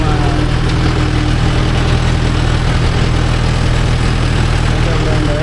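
A Mahindra Yuvo Tech Plus 585 4WD tractor engine runs steadily in a farm field, a loud, continuous low diesel drone that stays even throughout with no breaks.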